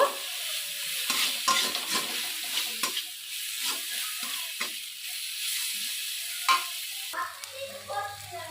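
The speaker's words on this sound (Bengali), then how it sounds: "মশলাটাকে ভালো করে এবারে আমি কষিয়ে নেব" Ground coriander, cumin and sugar masala is sautéed and stirred in a pan for a pointed gourd and prawn dish, with close spoon scrapes and clatters over a soft sizzle and a brief burst of water near the end.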